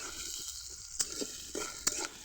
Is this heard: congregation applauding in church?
no